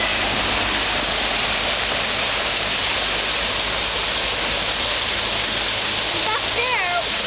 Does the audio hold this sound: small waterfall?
yes